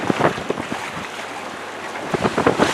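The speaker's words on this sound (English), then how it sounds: "Look, y'all, standing waves." Open sea waves slapping and washing against a sailboat's hull on an ocean passage in French Polynesia, with steady wind buffeting the microphone and irregular nearby splashes throughout.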